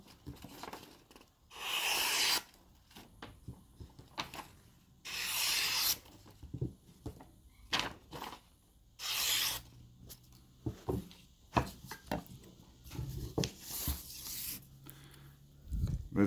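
A knife blade shaves and cuts into wood, making repeated dry scraping and rasping strokes of a second or so each, close and crisp, separated by quieter handling noises and occasional soft knocks.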